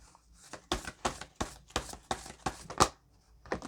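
Tarot cards being shuffled by hand at close range, a quick series of crisp riffling bursts with short pauses between them, moderately loud and with no talking over them.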